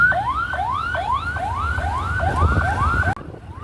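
An ambulance siren wails in traffic, a loud rising-and-falling sweep repeating about every half second before cutting off abruptly near the end.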